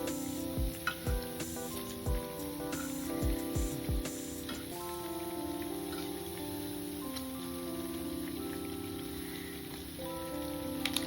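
Coriander vadas fry in hot oil with a steady, close sizzle that runs throughout, and a few soft knocks come from a utensil early on.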